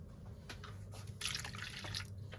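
Water runs and splashes over fish being washed, with a louder, fuller gush midway through, like rinsing under a tap; close and steady, with no talking.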